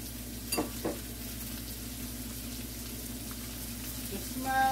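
Red onions sizzle steadily in a hot pan for pizza topping, a soft continuous frying hiss with a couple of brief stirring scrapes near the start and a faint clink at the end.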